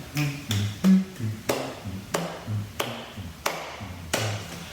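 Hand claps keep a steady beat for a Grade 1 aural-test exercise: about eight sharp, evenly spaced claps over low sustained tones, close and moderately loud.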